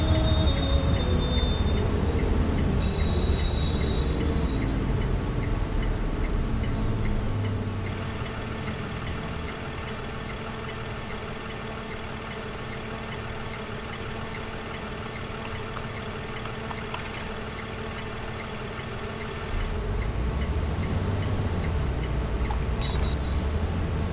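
Vehicle idling at a traffic light before turning into a high school, a steady low engine rumble close inside the cab that drops slightly in the middle, then rises again as it pulls away.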